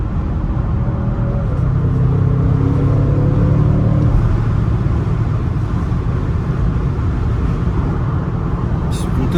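An Audi RS6 accelerating hard on a motorway, a loud, steady engine roar and road rumble with rising tonal sweeps early on, heard from inside the car, with voices talking over it.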